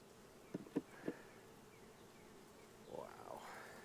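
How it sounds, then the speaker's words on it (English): Honey bees in an opened hive with heavy frames of nectar and pollen, buzzing softly at close range, with a few brief sharper knocks early on and a rising swell of buzzing near the end. "There are bees in the deep as well."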